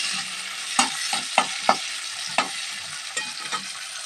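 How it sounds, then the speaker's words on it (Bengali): Chopped onion frying lightly in a pan: a continuous close sizzle with several sharp spatula knocks and scrapes spread across the stretch. "পেঁয়াজটা আমরা খুব বেশি কড়া করে ভাজবো না, হাফ ভাজা করে বেশ সুন্দর করে ভেজে নিচ্ছি"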